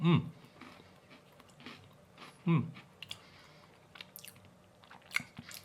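A crunchy lime-flavoured biscuit is bitten and chewed close to the microphone: two sharp crunching bites a few seconds apart, followed by softer, irregular chewing clicks.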